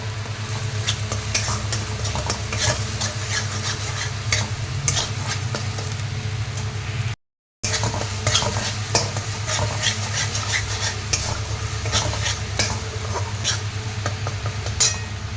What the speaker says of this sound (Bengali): ভালো করে কষাতে থাকবো।